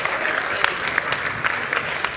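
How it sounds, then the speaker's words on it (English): Audience on its feet clapping in a standing ovation at a church service, a dense, lively burst of applause with sharper individual claps popping out near and throughout. "Tad's going to get a standing ovation for him coming up"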